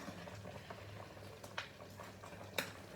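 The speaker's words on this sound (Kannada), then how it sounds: "ಇದೊಂದು 2 ನಿಮಿಷ ಕುದೀಲಿ" Akki paisa with grated coconut and jaggery simmering in a pot, giving a steady low bubbling burble with soft pops and a couple of sharper clicks near the end, no talking.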